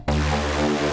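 A sustained buzzy Omnisphere synthesizer note with a wave shaper adding a gritty, crunchy harmonic edge starts abruptly and holds steady for about a second.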